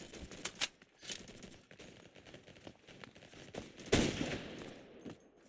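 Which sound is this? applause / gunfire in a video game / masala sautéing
gunfire in a video game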